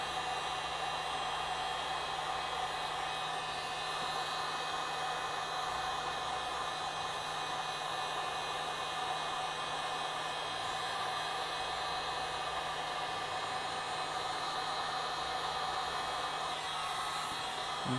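A heat gun shrinks heat-shrink tubing onto custom speaker wire, its steady fan-driven blowing whoosh running loud, close and unbroken for the whole stretch with no talk.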